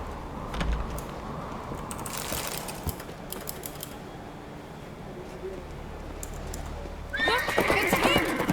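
A horse whinnies loudly near the end of a scene in The Witcher 3: Wild Hunt at Kaer Trolde, preceded by hooves clip-clopping and game-like ambient clatter, with no speech.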